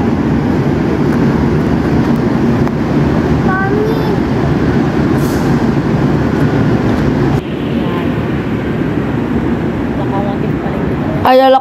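A CC 201 diesel locomotive rolls past at a commuter rail station, a loud continuous rumble and clatter filling the whole stretch, with a few faint squeals and talk nearby.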